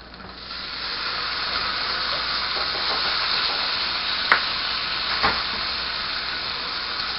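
Sugar and vinegar stirred into a hot pan of sizzling bacon fat for German potato salad, a steady loud frying hiss throughout with two brief sharp clinks of a utensil against the pan.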